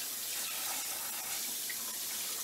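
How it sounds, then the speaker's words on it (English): Cold tap water runs steadily over a trout fillet being rinsed in a sink, a continuous close splashing stream with no talk. "I don't know if you can see this when I'm washing this off, okay? Cold water, of course, but really rinse it off real good."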